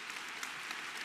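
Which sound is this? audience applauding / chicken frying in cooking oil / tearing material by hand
audience applauding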